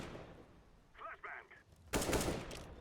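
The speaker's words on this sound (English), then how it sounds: "Taking some spam shots into the smoke" Rapid burst of rifle gunfire in a first-person shooter, Counter-Strike at a 2014 DreamHack event, fired as spam shots into a smoke grenade cloud; a loud dense volley arrives near the end after softer, faint background noise.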